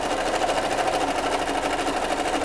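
A sewing machine runs continuously while stitching a seam, giving a steady, loud mechanical whir at an even pace for the whole stretch, with no voices over it.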